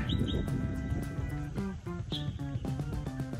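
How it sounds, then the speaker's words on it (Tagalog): Birds chirp in short, high, bright calls along a quiet beach nature trail, fairly faint against a soft background hum, with several repeated tweets scattered through the stretch. "Naririnig mo yung huni ng ibon."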